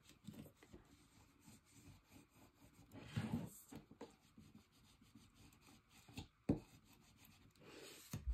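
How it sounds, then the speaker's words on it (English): A bone folder rubs firmly across chipboard to press it onto glued cardstock while building a dos-a-dos Christmas base, giving close, soft scraping strokes with a few louder bursts and no voices. "you push with your bone folder on the top of the chipboard so that glue adheres to that cardstock"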